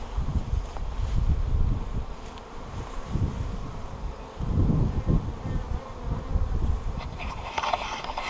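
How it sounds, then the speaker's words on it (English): A honeybee swarm buzzes steadily and densely close by, a continuous low drone that swells and thins as bees move about, with no talking. "Gave me a good sized amount of bees"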